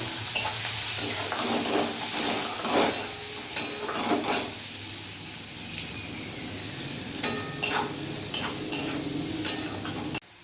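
Chopped onion with cumin and bay leaf fries in hot oil over medium gas, making a constant sizzle broken by repeated scraping stirs of a spoon in the pan. Nobody speaks.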